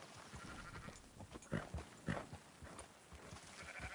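Sheep bleating in the Western game Red Dead Redemption 2, several short, fairly faint calls from a flock, repeated at irregular intervals over low background noise.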